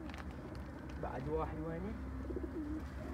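Iranian pigeons coo in a few soft, rolling calls close by, under someone speaking.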